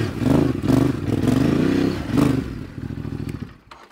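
A motorcycle turning on its rear brake revs in several short throttle bursts close by, engine rising and falling before settling to a quieter idle with a faint clatter.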